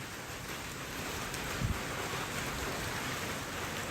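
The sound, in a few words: rain falling outdoors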